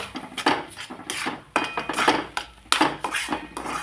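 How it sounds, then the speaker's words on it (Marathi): A metal spoon scrapes and clinks repeatedly against a pan as turmeric and salt are mixed in over medium heat, with a busy, uneven rhythm of close, fairly loud knocks. "थोडीशी हळद आणि लगेचच चवीपुरता नमक याला आपण चांगलं मिक्स करलो"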